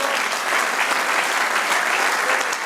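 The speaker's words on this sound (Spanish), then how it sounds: "Da un aplauso al Señor." A church congregation gives a burst of applause during a sermon. Many hands clap in a dense, steady wash that stays at an even, fairly loud level throughout, with no voices rising above it.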